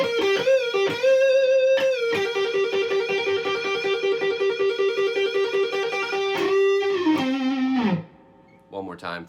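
A distorted electric guitar plays a solo of held, bent notes with a long sustained tone that slides down and stops, followed by brief faint noises.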